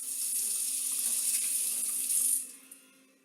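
Kitchen tap water runs steadily into a sink while a tablespoon is rinsed, a close hiss that stops abruptly near the end, leaving a faint drip and quiet room.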